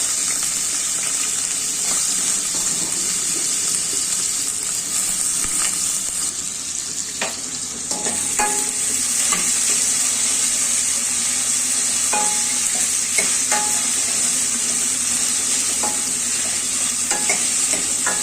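Steady sizzling with scraping, stirring clatter as root vegetables for sambar are moved around a hot pot, continuous and fairly close, no voices.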